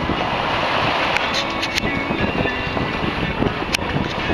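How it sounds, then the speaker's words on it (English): A sailboat sails at about 6 knots off Gore Point, Alaska, with loud, continuous wind buffeting and rushing water heard close and steady throughout, no talk. "Sailing along about 6 knots."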